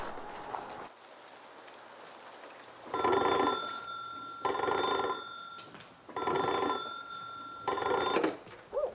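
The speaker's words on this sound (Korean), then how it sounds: "얼마 후 대전 형무소로 긴급 전화가 걸려온다." An old telephone at Daejeon prison during the Korean War rings in three long, loud bell bursts separated by short pauses, over a steady rain-like hiss.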